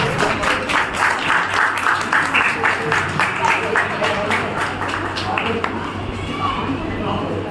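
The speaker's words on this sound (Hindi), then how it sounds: "तालियां बजाकर स्वागत करें।" An audience at a Hindi poetry gathering (kavi sammelan) applauds to welcome a poet, steady rhythmic clapping from a crowd that holds evenly throughout, loud and close.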